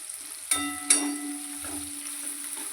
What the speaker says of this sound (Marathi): अशा प्रकारे आपल्याला मस्त हा ठेचा तळून घ्यायचा आहे चांगल्या प्रकारे